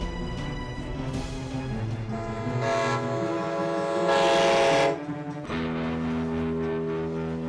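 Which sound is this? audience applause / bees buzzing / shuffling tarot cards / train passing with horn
train passing with horn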